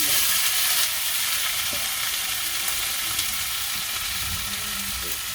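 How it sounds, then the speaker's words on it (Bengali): Onions fry in a pan in a village home kitchen, giving a steady, close sizzle with occasional soft crackles and no talk. "পেঁয়াজ ভাজা হয়ে গেছে"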